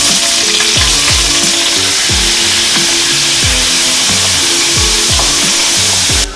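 Small onions with whole spices such as cinnamon, cardamom and cloves fry in hot oil for a chicken mushroom biryani, giving a loud, steady, continuous sizzle with rhythmic stirring scrapes throughout.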